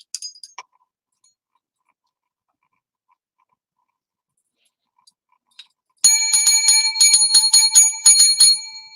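A bell is struck in a quick burst of bright metallic rings near the start, then after a long near-silent stretch it is rung rapidly and repeatedly, loud and close, with overlapping resonant tones.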